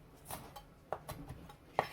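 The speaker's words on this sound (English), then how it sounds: "so I'm not subjecting you to me chopping spring onions." Knife chopping spring onions on a board, several sharp, well-spaced cuts with two louder strikes, close by and isolated against quiet kitchen background.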